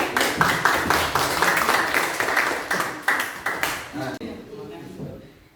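A classroom group claps for a finished group presentation, with brisk, distinct handclaps in a steady patter over several seconds, briefly under a spoken word, before fading into room noise.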